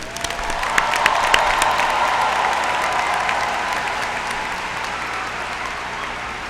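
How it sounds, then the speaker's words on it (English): A large audience at a high school graduation ceremony applauds steadily, dense clapping holding at an even level throughout with no voices standing out. "Families and guests, please join me in applauding the outstanding achievement"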